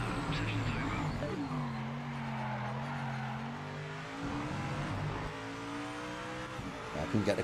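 Race car engine in the video game Project Motor Racing, revving and shifting through rising and falling pitch sweeps, heard faintly under a speaking voice.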